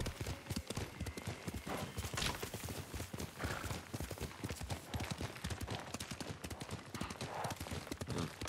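A horse gallops in Ghost of Tsushima, a video game, its hooves pounding in a fast, continuous clip-clop rhythm at close range, with a brief whinny in the mix.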